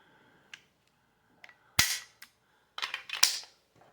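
A Beretta 92FS Compact pistol being cleared and checked: sharp metallic clicks and clacks of the slide and magazine, a few isolated snaps followed by a quicker cluster of mechanical clatter, close and fairly loud with no talking.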